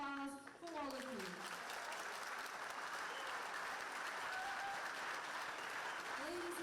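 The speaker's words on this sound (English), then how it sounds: "A big round of applause for all of you" A congress audience gives a broad, sustained round of applause that fills the hall evenly, following a brief fragment of voice at the start.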